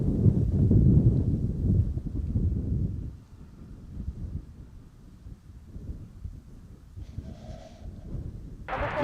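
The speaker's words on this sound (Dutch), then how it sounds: "Dan hoor je tenminste dat het hier stormt." Stormy wind at Amsterdam Schiphol Airport roars loudly against the microphone for about three seconds, then settles into a lower, steady gusting rush with a few brief sharper noises near the end.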